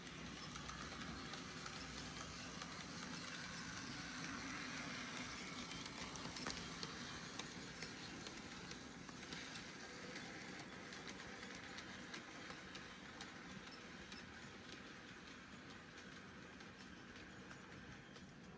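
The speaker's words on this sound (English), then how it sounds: "let's see the train run past" A Fleischmann BR78 model steam locomotive pulls a Fleischmann coach and two Minitrix coaches past on a model railway, a faint, steady mechanical whir and light rolling clatter continuing evenly throughout.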